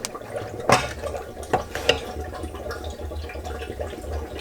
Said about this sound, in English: No, it's our fuel bubbling.